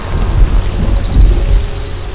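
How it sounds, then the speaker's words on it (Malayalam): Heavy rain pours down during a thunderstorm with deep rolling thunder rumbling underneath, loud and continuous with no voices. "നന്നായിട്ട് ഇടിയും വെട്ടുന്നുണ്ട്."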